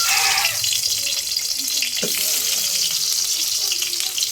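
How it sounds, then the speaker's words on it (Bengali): Pointed gourd (potol) slices frying in hot oil in a home kitchen, a steady broadband sizzle running close and loud throughout with a brief clatter near the middle; no talking. "আমি এখন একটা পটল ভাজবো"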